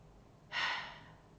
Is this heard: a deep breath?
yes